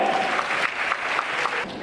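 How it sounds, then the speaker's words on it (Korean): Wedding guests in a hotel banquet hall break into a dense, steady round of applause that fills the room at full volume for the whole short stretch, with no talking over it. "큰 박수 한번 보내주세요"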